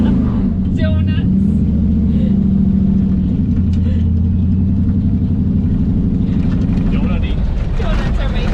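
An LS-swapped 1957 Chevy doing donuts, its engine holding a loud, steady low rumble that swells and wavers as the car circles, with faint voices and crowd sounds mixed in.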